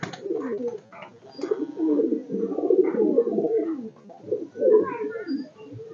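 Madrasi pigeon chicks coo in a loft, a steady low murmur of overlapping soft calls that swells and dips without a break.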